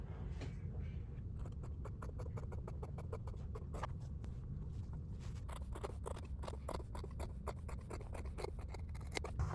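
Fabric for a book sleeve being trimmed with scissors, making close, soft crisp snips in a fast steady series of short cuts over a quiet background with no speech.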